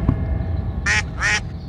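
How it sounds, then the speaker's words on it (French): Two quick, loud duck quacks in close succession from a family of ducks on the water, heard alone over low outdoor background noise. "là-bas il y a une famille de canards, il y a vraiment beaucoup de canards"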